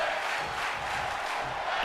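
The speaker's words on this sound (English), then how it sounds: "the crowd is certainly loving this tag team matchup" A wrestling crowd at a tag team match cheers and roars in a steady, dense wash of voices, loud and continuous with no commentary over it.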